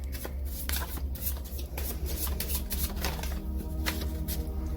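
Tarot cards are shuffled close by in quick repeated riffling bursts of papery flutter and soft slaps, running continuously with no talk over them.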